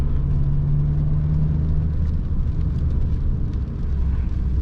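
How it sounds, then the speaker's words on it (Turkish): A VW Passat accelerates hard up a winding mountain road with its front wheels spinning, a loud steady engine roar and drone building throughout with no one speaking. "Şu an ön tarafta patinaj çekerek çıkıyoruz."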